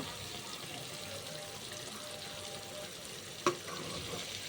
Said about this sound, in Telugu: మనం తీసుకున్న ఎగ్స్ని ఒక్కొక్కటి చొప్పున అన్నీ పగలగొట్టుకొని ఆయిల్లోకి వేసి బాగా ఫ్రై చేసుకోండి